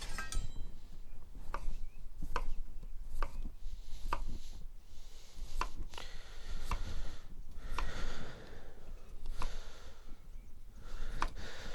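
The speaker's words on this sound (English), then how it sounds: "And get another potato and slice that." Knife slicing through a potato during kitchen prep, producing a steady series of crisp, sharp cuts striking the board at roughly even intervals, close and clear with no talking.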